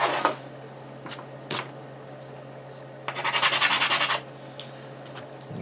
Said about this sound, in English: I'm using a sanding board and sanding sponges to clean these pieces.